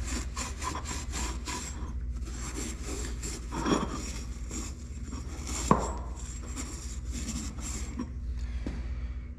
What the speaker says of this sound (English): So a little bit of WD-40 to clean this thing out a little bit, and we're gonna rub it clean.